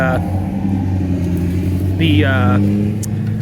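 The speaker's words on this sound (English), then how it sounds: "sorry, car going by." A car drives by outside during drain cleaning work with a flexshaft machine. The low, steady road rumble is loud and close and runs throughout, with a brief voice rising over it partway through.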